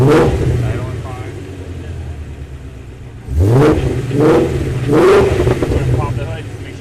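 Shelby GT350 V8 idling with newly installed headers and exhaust, a steady rumbling drone that swells in three rev-like surges midway; people talk over it.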